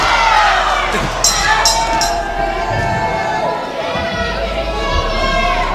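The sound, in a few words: crowd cheering at wrestling event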